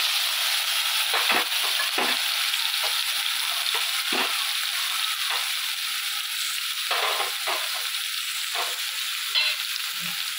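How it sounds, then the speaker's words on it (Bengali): Small shrimp frying in hot oil in a wok, a loud, continuous crackling sizzle broken by repeated scraping stirs, close and without voices. "ছোটো চিংড়ি মাছ হালকা ভাজলেই হবে, বেশি ভাজার দরকার নেই"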